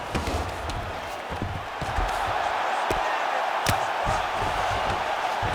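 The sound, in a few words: crowd reacting at a UFC fight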